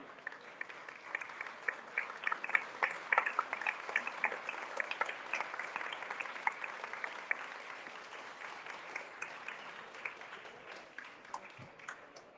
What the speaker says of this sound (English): Another picture and a big round of applause,